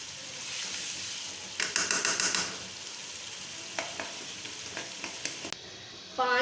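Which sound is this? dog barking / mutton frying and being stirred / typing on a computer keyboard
mutton frying and being stirred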